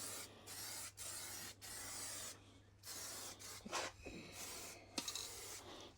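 Etch primer sprayed onto the bodywork of a 30-year-old Ford Escort RS Cosworth: a faint series of hissing spray passes broken by brief gaps, with a few small knocks near the end.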